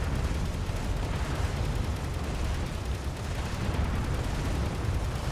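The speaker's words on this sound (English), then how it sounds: "let's just fire some archer missiles" Archer missile pods on a Space Engineers ship fire a steady stream of missiles, producing a dense, continuous roar of launches and thumps that stays loud and unbroken throughout.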